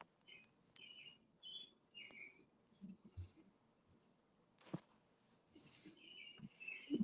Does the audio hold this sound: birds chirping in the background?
yes